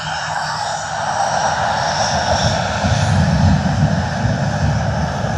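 An airliner in a special Toy Story 5 livery at Sydney Airport: a steady, fairly loud jet engine roar holds throughout with a slight swell in the middle, with no other sounds over it.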